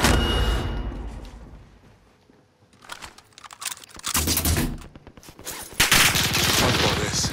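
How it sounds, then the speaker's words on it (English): Gunfire in an online shooter game, with rapid bursts of crackling shots that grow louder and denser toward the end, close and sharp. "The bastards are shooting at me!"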